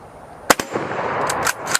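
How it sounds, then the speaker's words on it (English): Rifle firing 7.62x54 rimmed rounds: several sharp, close gunshot cracks spaced unevenly over a couple of seconds, with muffled background noise between them. "I'm only going to fire 5 rounds of 54 rimmed as well"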